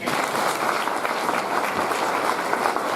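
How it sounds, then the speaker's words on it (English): An audience at a Kokoda Challenge briefing night applauds a first-aid demonstrator, a steady, moderately loud patter of many hands clapping for a few seconds. "give her a clap"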